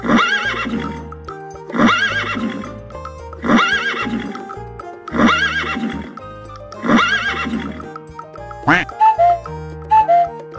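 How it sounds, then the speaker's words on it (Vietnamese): Five loud whinnies from a foal come in a regular sequence, followed by quick clip-clopping hoof taps near the end, all over a continuous musical accompaniment. "Ngựa con."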